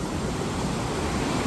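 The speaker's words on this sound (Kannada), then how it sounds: "ಇದು ಹೆವಿ ನೀರು ಒಳ್ಳೆ ಫ್ಲೋ ಅಲ್ಲಿ ಉಂಟು." Heavy water flow at Kattina Madke Falls, a steady, loud, broadband roar of rushing water that fills the whole clip with no break.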